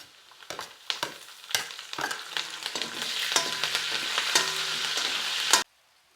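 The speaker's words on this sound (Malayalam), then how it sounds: "കുറച്ച് കറിവേപ്പില ഇടുക" Curry leaves hit hot oil for a nettoli fish pickle, crackling in a series of sharp spits that swell into a loud continuous sizzle with stirring scrapes, then stop abruptly.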